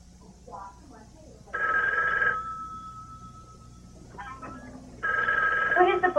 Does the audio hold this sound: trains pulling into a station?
no